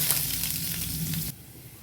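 Chopped onion sizzling in hot oil for a tempering, a loud steady fry close by that cuts off abruptly near the end.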